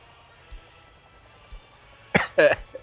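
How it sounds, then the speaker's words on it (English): After a quiet stretch with a couple of faint taps, a person gives two short, harsh coughs close to the microphone. "I'm gonna have a coughing fit."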